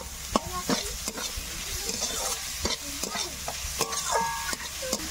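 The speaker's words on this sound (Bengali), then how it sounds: "এবার ভালো করে ভেজে নেব। এবার দিয়ে দেব গ্রেট করে রাখা ফুলকপি।" Grated cauliflower frying in a pan while being stirred, a constant sizzle punctuated by repeated sharp spatula scrapes and clinks against the pan, close and fairly loud.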